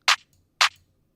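Two crisp, dry clap drum sample hits without effects, about half a second apart, each short and bright with no reverb tail, in otherwise silent surroundings.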